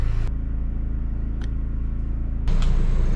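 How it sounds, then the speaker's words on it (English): A generator engine hums in a steady, harmonic drone and rises to a louder rev near the end, with a few faint clicks over it. "you definitely heard it rev up"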